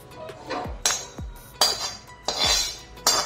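Roasted coconut is scraped from a metal pan onto a plate in a series of sharp metallic scrapes and clanks, about five distinct strokes in an uneven rhythm, close and alone without speech.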